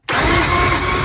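A Yamaha 225 Vmax outboard motor on a 2003 Triton TR20 bass boat catches and roars into a loud, steady run right away.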